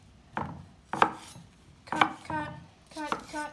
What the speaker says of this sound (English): ASMR slicing